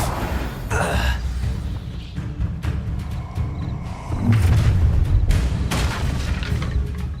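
The Incendio fire spell in Hogwarts Legacy bursts out as a deep booming whoosh of flame, loud and rolling for several seconds after a stretch of scattered combat thuds.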